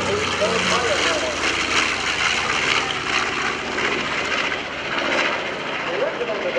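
A B-25 Mitchell medium bomber's piston engines drone loudly and steadily overhead at an air show in Hampton Roads, with a commentator talking continuously over the roar.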